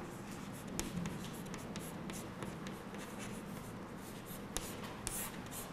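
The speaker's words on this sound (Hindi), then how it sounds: "आइए इधर लिखती हूँ मैं भाषा ज्ञान।" Chalk or marker writing on a board in a Hindi classroom, a steady scratchy rubbing texture with a few sharp taps, continuous and close, no talk.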